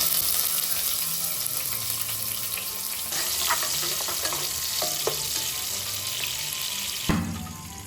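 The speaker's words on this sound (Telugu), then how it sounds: "ఆయిల్ అయితే బాగా హీట్ ఎక్కింది. ఇప్పుడు ఆనియన్స్ వేస్తాను." Onions hitting well-heated oil in a pan for Hyderabadi egg dum biryani, a loud continuous sizzle with scattered stirring scrapes and a sharp knock near the end.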